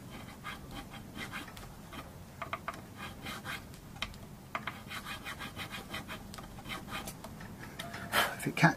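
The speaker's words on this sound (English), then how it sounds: "switching over to the original, the nut file" Fine rasping strokes of a nut file cutting a slot in the nut of an electric guitar being converted from seven to six strings, short scratchy bursts repeating close by with a louder flurry near the end.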